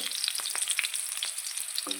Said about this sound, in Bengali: লঙ্কাটা ফুটতে শুরু হয়েছে দেখে নাও